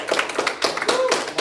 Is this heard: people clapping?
yes